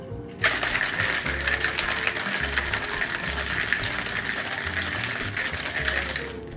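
A drink is shaken hard in a shaker to build foam, making a continuous, dense, rapid rattling churn that starts abruptly, runs steadily for several seconds at close range, then stops.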